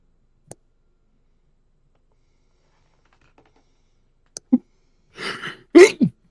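A single sharp sneeze, preceded by a quick gasping intake, breaks out near the end of a quiet stretch with a few faint clicks during a tabletop game session.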